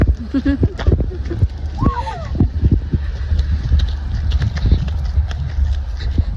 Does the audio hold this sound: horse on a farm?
yes